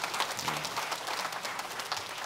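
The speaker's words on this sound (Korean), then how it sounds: "박수" A church congregation at a Sunday morning service claps together for a couple of seconds, the sound soft and somewhat distant, with no voices over it.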